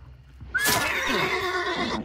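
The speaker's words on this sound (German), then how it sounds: "das Pferd muss halt Krach machen, wenn man es ersticht" A horse in the video game Hunt: Showdown lets out a loud, close, shrill neigh as it is stabbed. The whinny lasts about one and a half seconds over faint hoof clatter, with no speech.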